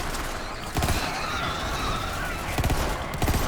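Gunfire in the video game Borderlands 3: a few short bursts of shots over a dense, noisy game soundscape, with no talk.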